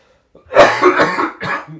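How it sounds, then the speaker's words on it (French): A close, loud burst of three or four coughs in quick succession, with no talking. "ça me fait tousser"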